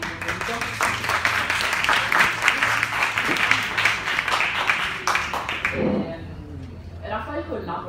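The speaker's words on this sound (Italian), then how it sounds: "Un applauso per darvi il benvenuto." Audience applause welcoming a screenwriter at a film event, a dense burst of clapping that fades out after about six seconds as a voice starts speaking.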